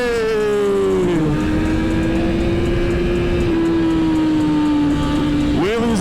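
Suzuki GSX-R 1000 sportbike engine riding at night through Miami streets, a loud steady drone with a falling pitch early on and a sharp rev rise near the end, heard close up with wind rush.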